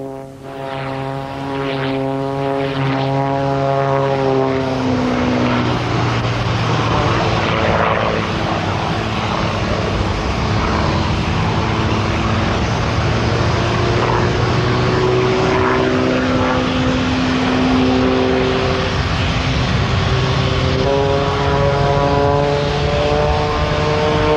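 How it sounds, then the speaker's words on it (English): A propeller aircraft flies aerobatics at the 1993 Biggin Hill air show, its loud continuous engine drone rising and falling in pitch as it climbs, dives and turns. "And now for some stomach-churning aerobatics, sponsored by Breitling, the watch people."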